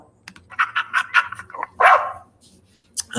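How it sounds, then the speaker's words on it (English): A dog barks in a quick series of sharp yaps, then one louder, longer bark, close and clear against an otherwise quiet background. "you get the sound of a dog"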